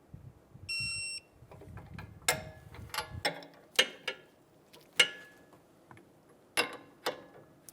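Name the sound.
tightening a Toyota Camry sway bar nut with a torque wrench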